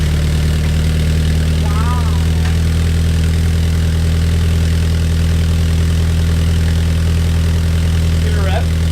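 A Toyota GT86 fitted with an Invidia exhaust idles at a steady, deep, even drone, loud and close, with a couple of brief chirps over the constant hum.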